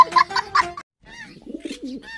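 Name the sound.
pigeon cooing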